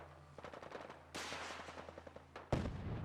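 A missile launcher fires in the Fallout 4 video game amid faint, rapid rattling gunfire, with two sudden whooshing bursts that swell over the steady clatter.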